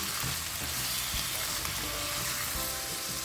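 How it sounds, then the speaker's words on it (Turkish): Close, continuous loud sizzling comes from minced meat frying with chopped tomatoes in a pot for eggplant oturtma, stirred now and then. "Kestiğimiz domateslerimizi de içerisine atıp 2 dakika daha kavuralım."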